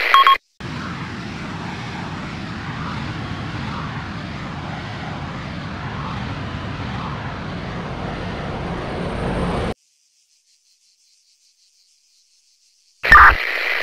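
An enemy plane drones past with a steady engine roar lasting several seconds, fairly loud and even, then cutting off abruptly into silence before a brief burst of sound returns.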